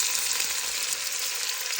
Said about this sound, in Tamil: நாங்கள் இனி இதுக்குள்ள வெங்காயத்தை போட போகிறோம்